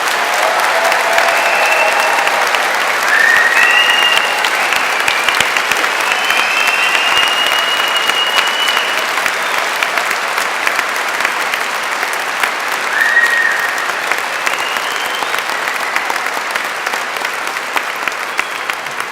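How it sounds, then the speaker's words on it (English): Sustained, dense applause from a large audience honouring graduates at an Edinburgh University degree ceremony, steady and loud throughout with a few faint shouts, no speech over it. "why don't we start off with another round of applause for our fantastic graduates today"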